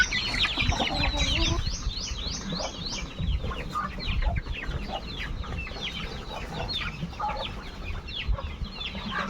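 Chickens cluck and squawk on a farm, a busy overlapping flock with repeated sharp calls up close, continuing steadily throughout with faint chirps mixed in.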